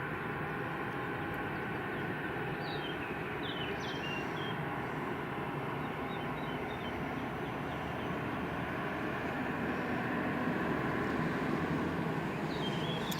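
A Sun Class Airbus A321 approaches Madeira Funchal airport, its engines giving a steady, broad, distant roar that holds at an even level throughout, with no voices over it.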